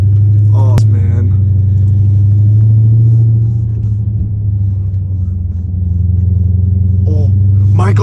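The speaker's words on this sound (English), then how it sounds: "I literally was downshifting, gassing it in 3rd gear" A catless Dodge Challenger Hellcat Redeye at night gives a deep, loud exhaust rumble from inside the car that swells as it accelerates in third gear, with brief voices over the engine.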